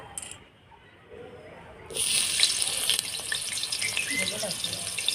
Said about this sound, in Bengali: ওই তেলে এঁচড়টা একটু ভেজে নেব